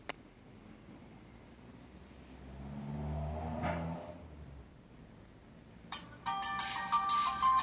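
An HTC Wildfire S smartphone ringtone for an incoming call starts up near the end, bright and tonal in repeating bursts, after a stretch of quiet room noise with a passing engine-like swell.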